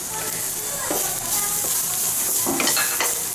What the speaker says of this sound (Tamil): இதையும் தேங்காயும் லைட்டாக ஒரு பட்டுக்கலாம்.